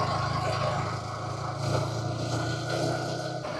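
A motorcycle climbs a steep uphill road from Bandarban town toward Nilachol in second gear, its engine a steady, close, unbroken drone with a low throbbing hum that holds for the whole stretch.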